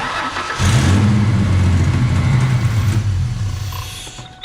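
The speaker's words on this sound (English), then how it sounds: "now I can turn my car on" A car engine cranks and catches, then runs with a steady low rumble close by, holding at a fairly even idle.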